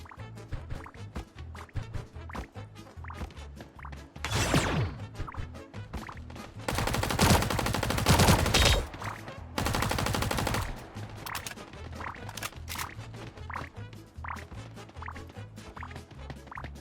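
Bursts of gunfire from the video game Sausage Man, with a short volley and then two longer, loud sustained rattles of automatic fire over a busy game soundscape with music.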